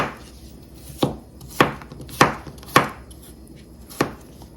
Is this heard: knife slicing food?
yes